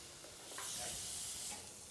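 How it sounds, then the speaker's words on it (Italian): A roe deer loin, salted and peppered, sears in a pot with garlic and thyme, giving a brief, soft hissing sizzle that swells slightly midway. "andiamo a rosolare il lombo"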